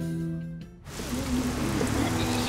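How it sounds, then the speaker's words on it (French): Steady rain pours in through an open window and patters onto surfaces inside a home, a dense continuous hiss rising suddenly after a brief quieter moment with a faint tonal background. "Il a oublié de fermer sa fenêtre et il pleut chez lui."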